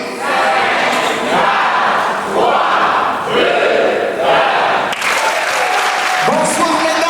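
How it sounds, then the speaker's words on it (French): Audience at a live comedy show in a venue bursting into loud, sustained applause with cheering and shouts, a dense crowd roar that swells and surges in waves throughout. "On applaudit."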